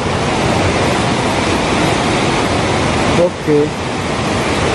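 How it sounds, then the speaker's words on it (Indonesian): Petanu River in Bali, its current flowing as a loud, steady broadband rush close by, with a brief spoken word near the end. "Ini arus sungainya, teman-teman"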